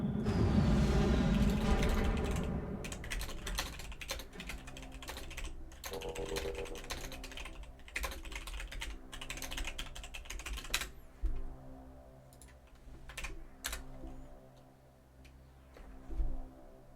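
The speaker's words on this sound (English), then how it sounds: "I was sending another message. I'm sure you heard me typing." Rapid typing on a computer keyboard, close and steady, with dense clattering keystrokes that thin out into sparser taps near the end, alone without talk.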